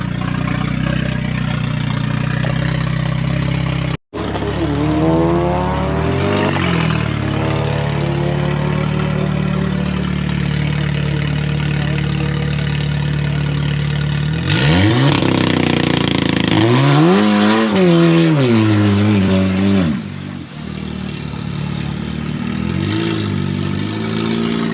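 A turbocharged Audi S3 with deflated tyres and its passenger seat removed idles loudly at a drag strip start line, then revs and launches hard in rising, sweeping bursts before its engine note drops away.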